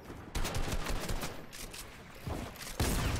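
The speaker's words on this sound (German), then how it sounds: "Oh, so ein wichtiger Schuss." Rapid bursts of gunfire from an online shooter game's arena mode, dense overlapping shots in quick clusters, loud and close, with brief gaps between volleys and no talking.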